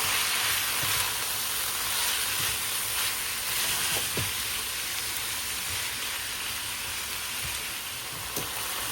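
Chicken and garlic sautéing in a pan for a Filipino upo and chicken sotanghon dish, a continuous loud sizzle and hiss with a few faint clicks of utensils, no voices.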